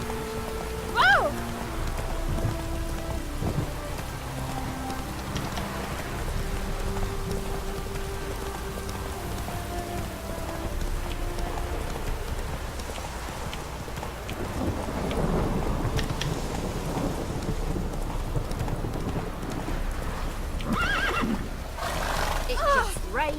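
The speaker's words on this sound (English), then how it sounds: "It just rains and rains." Steady rain in The Witcher 3 game world, a continuous wash of downpour with rumbling thunder and a horse whinnying at times, while characters speak over it.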